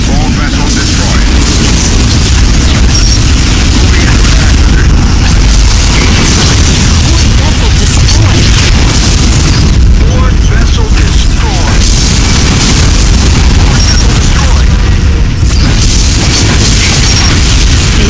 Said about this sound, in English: Photon torpedoes ready. All vessels destroyed.